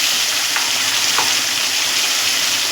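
Cumin, ginger-chili paste and turmeric sizzle loudly in a hot pan, a dense steady crackling hiss close by, with a couple of brief stirring scrapes early on and no voices.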